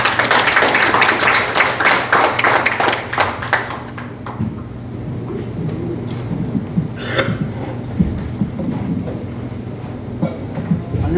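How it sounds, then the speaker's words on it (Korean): Dense applause from a forum audience rises at once and stays thick for about four seconds, then thins into scattered claps and room murmur. "큰 박수 부탁드립니다."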